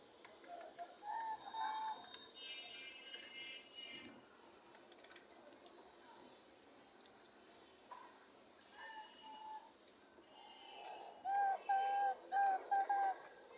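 A diamond dove kept with budgerigar chicks gives soft repeated coos in short bursts, faint at first and clearer near the end, against a quiet indoor background with some faint human voice.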